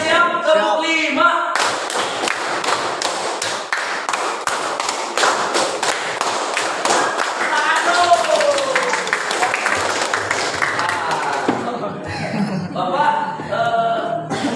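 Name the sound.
rhythmic group clapping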